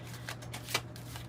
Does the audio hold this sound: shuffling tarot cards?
yes